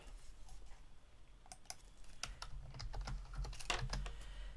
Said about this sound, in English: And then you type your message.